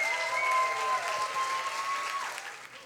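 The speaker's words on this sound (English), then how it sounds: "with a warm round of applause, please say goodbye to all the slammers except for number 1." An audience at a science slam gives a warm round of applause, dense clapping close and steady that tapers off toward the end.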